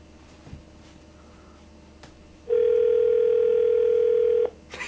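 A telephone ringback tone plays over a phone line, a steady loud tone holding for about two seconds after a quiet stretch with faint clicks, then stopping abruptly.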